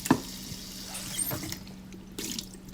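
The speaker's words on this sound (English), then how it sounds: "Let's take it to the sink and start rinsing them really good." Fruit being rinsed under a running kitchen faucet, a soft steady stream of water splashing into the sink with a few small drips and clinks, fairly quiet and close.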